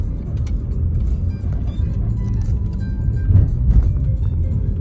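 A silver 2003 Cadillac CTS with newly replaced brakes, rotors and pads drives along on a test run, giving a steady low engine and road rumble from inside the car that swells slightly near the end.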